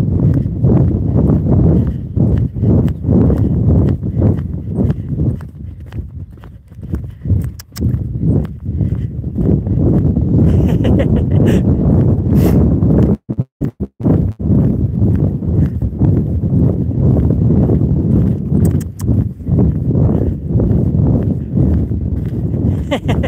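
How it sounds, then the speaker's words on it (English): A horse canters with a steady, rapid clip-clop of hooves throughout, with rustling movement and a rider's voice heard over the rhythm. "But let's do a little canter."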